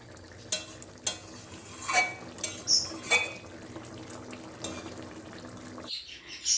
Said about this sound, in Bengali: এবার আমি এটাকে নেড়ে চেড়ে একটা পাত্রে নামিয়ে নেব।